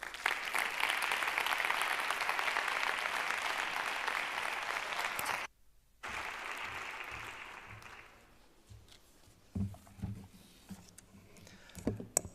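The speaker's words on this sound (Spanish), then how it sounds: "Les pido, por favor, un fortísimo aplauso" An audience at a justice data forum claps loudly and steadily for about eight seconds with a short break midway. The applause then thins to scattered faint sounds.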